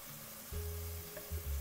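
Polish angel wings dough frying in a mix of lard and oil gives a soft, steady sizzle at low volume, with a few low bubbling swells as the pieces cook.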